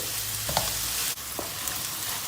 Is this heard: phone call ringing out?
no